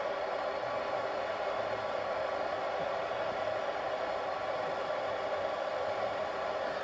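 A blowtorch heats a rusty ball joint bolt on a Ford Fiesta, giving a steady, even roaring hiss that holds unchanged throughout, close and moderately loud with no talking.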